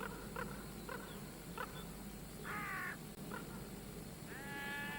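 A carrion crow cawing outdoors, a few harsh caws spaced out over a steady background hum, moderately distant with fainter bird calls between.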